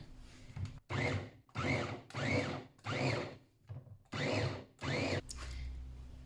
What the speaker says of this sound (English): now I'm just going to pulse this a few times just to get it like a breadcrumby kind of consistency